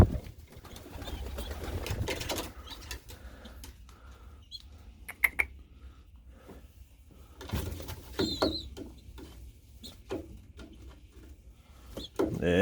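A feisty, aggressive young pigeon coos and scuffles, with soft cooing under sharp clicks, wing flaps and rustling, intermittent and close by, and a person speaking faintly at times.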